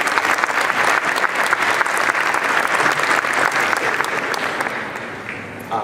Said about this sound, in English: I want to give them a round of applause together